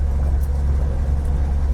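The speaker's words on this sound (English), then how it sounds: "The exhaust is rattling like crazy though." An old car's exhaust rumbles and rattles while driving on its first drive since 1991, a loud, continuous low drone with no pauses through the short stretch.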